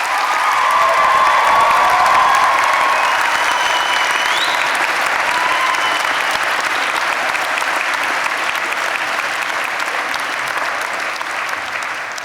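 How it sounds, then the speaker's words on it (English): A graduation ceremony audience at a university in Preston applauds steadily, dense, loud clapping from a large crowd that holds for the whole stretch and tapers only slightly at the end. "I think you all deserve a round of applause from the students"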